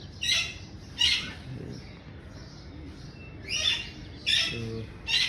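Cockatiels in an outdoor aviary on a green mountain give repeated harsh squawks, about six sharp calls spaced a second apart, fairly close and loud over a quiet background.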